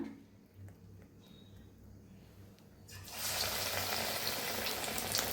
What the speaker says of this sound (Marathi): ह्याला आता ह्याला बी छान असं तळून घेऊया